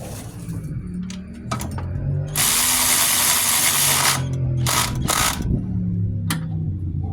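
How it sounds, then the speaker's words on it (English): An electric ratchet loosens motor mount bolts on a 2007-2012 Nissan Altima, whirring in close, loud bursts with a long sustained run in the middle, over a low mechanical hum, with no talking. "I think I can move on to my electric ratchet now"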